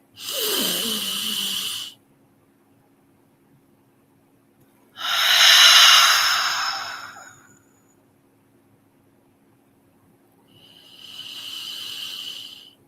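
Slow, deep breaths drawn in through the nose during a guided meditation, three long airy hissing inhales and exhales separated by quiet pauses, close and fairly loud over a faint steady hum.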